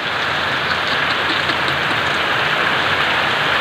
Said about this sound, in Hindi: आप देख सकते हैं ज़बरदस्त बारिश हो रही है।